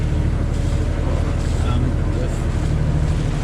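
A sailboat's diesel engine runs at 1200 RPM while motoring at about 5.5 knots in light wind, giving a steady, continuous low drone with wind and water noise over it.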